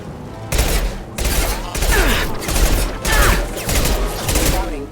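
Gunfire in a Mass Effect Legendary Edition firefight, loud bursts of rapid shots in about six volleys separated by short gaps.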